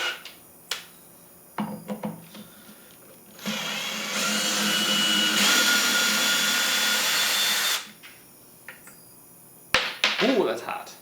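A power drill spins the original bit against a stripped, rounded-out screw in one sustained whining burst of about four seconds, with shorter clicks and handling noises before and after.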